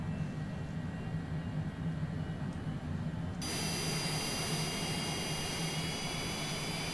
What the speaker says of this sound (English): Right engine's coming up.